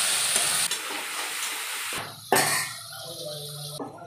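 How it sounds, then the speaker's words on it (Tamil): Curry leaves and salt sautéing in a pan for gravy, a hissing, spitting sizzle that fades and then flares up again with a sharp crackle, heard close up with no talking. "அதை வதக்கிக்கலாம்."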